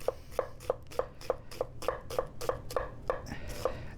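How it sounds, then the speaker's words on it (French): A knife chops steadily through an onion on a cutting board, about a dozen crisp, evenly spaced strokes at a brisk rhythm, close and clear over a quiet kitchen background. "On va émincer notre oignon."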